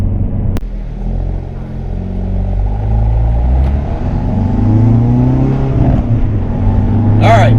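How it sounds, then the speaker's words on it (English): A Hyundai Veloster N in N mode heads out on track, its engine rumbling and then revving higher as it pulls away, while a voice talks over the engine. "We're going to need to warm the car up a bit"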